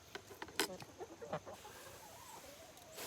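Backyard chickens cluck in a few quick, close bursts in the first half, then the calls thin out into quieter background noise.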